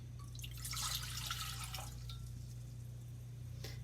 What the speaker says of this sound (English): pour in your 2 cups of water